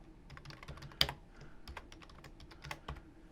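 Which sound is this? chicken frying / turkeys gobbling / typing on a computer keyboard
typing on a computer keyboard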